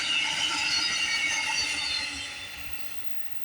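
A VIA Rail passenger train, Via 97 / Amtrak 64 with five coaches, passes on the CN Halton Subdivision with a broad, steady rolling rush that gradually fades as it moves away.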